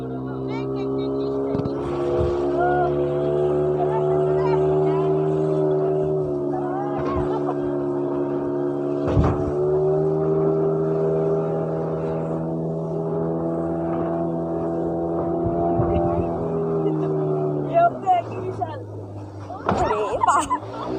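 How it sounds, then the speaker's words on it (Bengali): A speedboat on the sea at Puri beach, its engine droning steadily and close with shifting pitch, wind and water noise around it, and people talking toward the end. "এই বোটে করে এখন আমরা বোটিং করতে"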